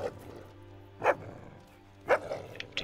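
In the video game Fable 2, a dog barks twice, sharp single barks about a second apart, close and clear over low game background sound.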